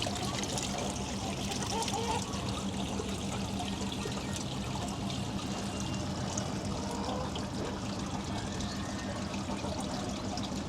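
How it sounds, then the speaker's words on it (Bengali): Water pours steadily into a fish tank from a hose pipe, a continuous broadband splashing trickle that stays loud and even throughout, with faint voices now and then beneath it. "বন্ধ করতে করতে আমি একটু পানি দিয়ে দিই"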